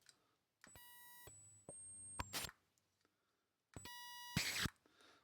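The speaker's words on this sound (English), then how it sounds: "It only seems to beep that one time and then goes off." A small electronic toy beeps in short, sharp bursts, two clusters of shrill tones close by, separated by quiet gaps.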